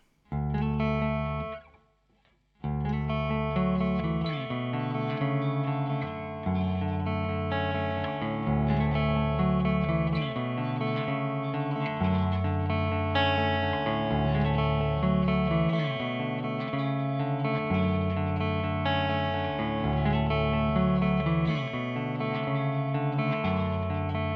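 A heavily distorted electric guitar plays a chugging, repeating riff from a song with a thick, driven tone, loud and steady after a brief gap near the start.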